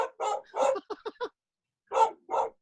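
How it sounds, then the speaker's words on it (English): A dog barks at a cat outside, a run of loud, close barks in quick bursts, then a pause and two more barks. "Sorry, my dog see a cat outside."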